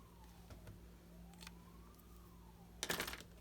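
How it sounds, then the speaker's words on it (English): A distant fire station siren near the Conisty fire station wails faintly in the background, its tone slowly rising and falling, with a brief louder rustle near the end. "So if you hear some sirens in the back, something's going on back at the station."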